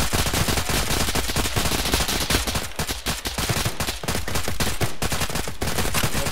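Sustained automatic gunfire from a firefight in the military video game Arma, loud and continuous bursts of machine-gun fire overlapping across the whole stretch with dense rapid cracks and no voices.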